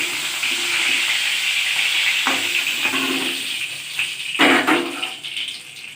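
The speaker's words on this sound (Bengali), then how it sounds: "আরও একটা মাছ আছে, সেটাও আমি ভেজে নেব।" Giant freshwater prawns fry in hot oil in a pan with a steady close sizzle, broken by two louder crackling bursts as pieces are shifted or lifted.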